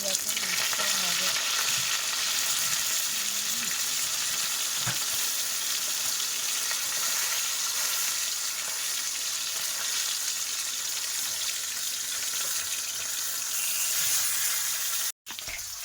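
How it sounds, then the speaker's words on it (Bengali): A large river-caught dadne fish frying in hot oil in a Sundarbans kitchen, giving a close, constant crackling sizzle with small pops that cuts out briefly near the end. "এই দেখো মাছটা ভাজা।"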